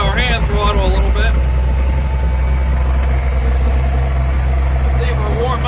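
Deuce-and-a-half military truck engine idling with the hand throttle set to warm up, a steady low rumble throughout, close by, with someone talking over it at the start and end.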